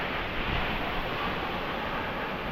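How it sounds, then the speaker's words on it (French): A huge waterfall in Bali roars as a dense, steady wash of noise, broad and unbroken throughout, heard from a little distance. "Grosse cascade."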